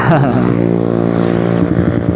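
Motorcycles with loud racing exhausts riding along a street in the afternoon, a close, harsh engine drone with shifting pitch that fills the whole stretch, with a voice speaking over it.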